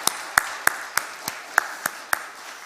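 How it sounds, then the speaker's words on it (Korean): A church congregation claps at a Friday late-night prayer service, sharp separate claps in a loose, steady beat through a reverberant hall, with no voices. "힘차게 박수 한번 칩시다"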